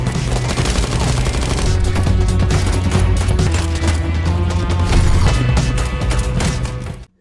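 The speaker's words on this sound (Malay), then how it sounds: "Dalam aksi baku tembak itu, Nicholas yang berada di dalam mobil lalu turut serta membantu Victor untuk menembaki anak buah Jafir" Gunfire from a film shootout, with a character shooting from inside a car at gang members: dense, continuous volleys of rapid shots and crashes that stay loud throughout before cutting off abruptly at the end.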